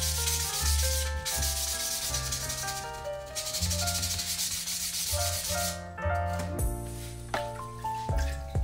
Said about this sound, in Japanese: この320番の サンドペーパーで平を磨いて、まあ、サビを落としながら